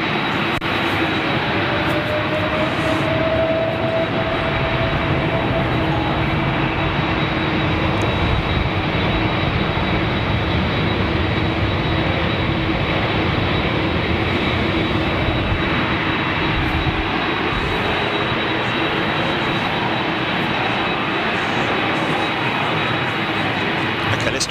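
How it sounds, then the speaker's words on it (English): A loud, steady jet engine roar from a British Airways aircraft fills the whole stretch, broad and unbroken, with a faint rising whine early on. "Lots and lots of engine noise."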